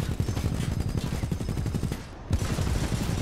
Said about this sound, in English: he is showering me with bullets